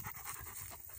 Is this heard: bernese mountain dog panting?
yes